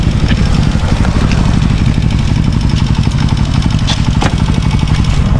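A motorcycle engine idles steadily up close, a loud continuous low rumble with a fast, even pulse throughout and no one talking.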